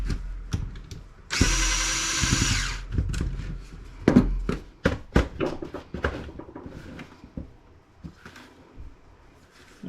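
A power screwdriver whirs for about a second while backing screws out of an old Dell laptop being scrapped. Close clicks and clatters of small screws and plastic parts follow.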